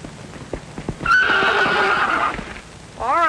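A horse gives a loud, clear whinny lasting over a second, preceded by a few hoof clip-clops and followed by a shorter rising neigh, in a 1950 Western film setting.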